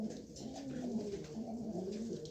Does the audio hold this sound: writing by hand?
no